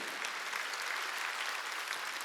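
A church congregation at a Wednesday worship service claps steadily in a dense, continuous wash of applause with no pauses.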